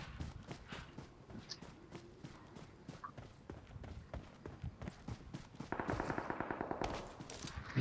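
Video game gunfire, rapid repeated bursts of shots and bullet impacts at low volume, thickening into a faster automatic stream toward the end.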